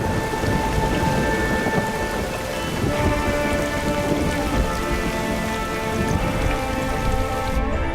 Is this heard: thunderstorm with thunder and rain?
yes